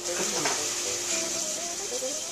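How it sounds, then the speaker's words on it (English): Vegetables for ratatouille cooking in a pot, giving a steady close sizzle with soft stirring and scraping throughout. "maybe just mash them up a little bit so you don't find anything too big in your sandwich"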